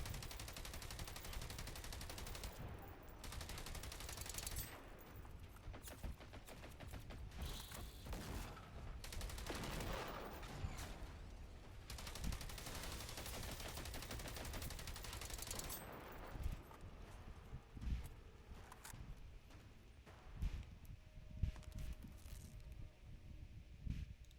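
Rapid video game gunfire, machine-gun bursts and volleys of shots firing almost continuously at moderate loudness, easing into scattered single shots near the end.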